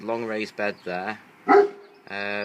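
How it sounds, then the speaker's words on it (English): A neighbouring dog barks once in a short burst from across a kitchen garden, heard between stretches of someone talking outdoors. "that's the dog barking next door"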